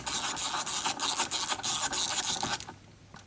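A T30 socket on an extension loosens the windshield mount bolts on a Jeep JL/JT, making a close, rhythmic raspy ratcheting that runs steadily and then stops abruptly.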